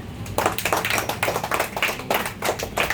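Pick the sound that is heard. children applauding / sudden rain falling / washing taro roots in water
children applauding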